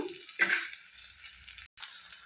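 A spoon stirs drumstick curry in a hot pan, a brief scraping clatter followed by faint sizzling, quiet and close.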